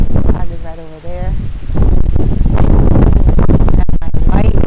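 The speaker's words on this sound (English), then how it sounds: "it is so windy" Strong wind gusts through a South Florida orchid garden, buffeting the microphone with loud, rumbling bursts and rustle that swell and hold, while a person talks over it.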